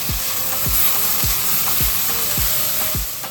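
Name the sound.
stir-frying ginger garlic paste, onions and tomatoes in a pan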